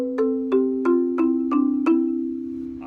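A marimba, mallets striking six clear notes about a third of a second apart, the left hand sounding a C beneath as the right hand climbs from D up to B, each bar ringing briefly and decaying, close and alone.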